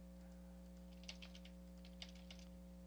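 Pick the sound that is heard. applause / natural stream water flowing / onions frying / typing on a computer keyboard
typing on a computer keyboard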